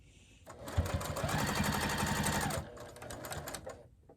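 A sewing machine stitches a microwaveable fabric bowl cozy in a rapid, steady run of close, loud needle strokes lasting about two seconds, then slows to softer, uneven clicks as the presser foot lifts for a pivot.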